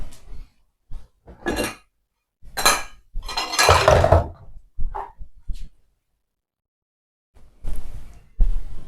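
Dishes, pots and cutlery clinking and clattering during an evening kitchen clean-up, in irregular bursts with pauses, fairly close.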